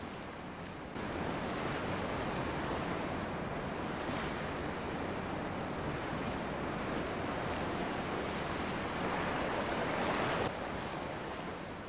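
Sea waves breaking and washing along the shore in the video game Dear Esther, a steady broadband roar of surf with gusts of wind, loud and continuous without any talk.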